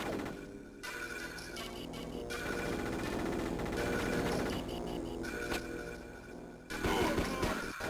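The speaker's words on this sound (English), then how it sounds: "I have to at least try the M4 machine gun now" Rapid, dense synthetic gunfire from an M4 machine gun in a 3D cover shooter game on the Game Boy Advance, a continuous burst over game sounds with a brief pause near the end.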